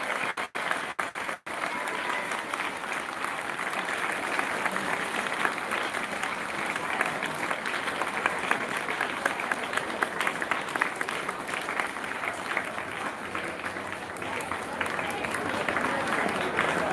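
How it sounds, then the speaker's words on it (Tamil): A large audience claps loudly and steadily at an Independence Day celebration, dense sustained applause from a crowd with a voice briefly heard near the start. "நல்லா கைதட்டு வைப்போம். சத்தமா கைதட்டு தான்."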